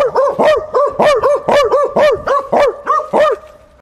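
A dog barks loudly and close in a steady run of about ten sharp, evenly spaced barks, with no talk over them.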